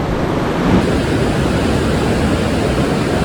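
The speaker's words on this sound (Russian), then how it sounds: "Надеюсь, что нас не смоет, потому что волны здесь прям большие." Large Atlantic Ocean waves break along the Atlantic City shore, a loud, steady wash of surf that roars continuously with no pause, close and broad, with wind rushing across the microphone.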